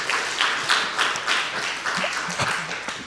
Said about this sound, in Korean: 아니 왜 박수를 치십니까?